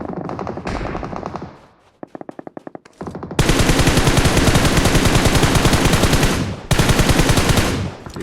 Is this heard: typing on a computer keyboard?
no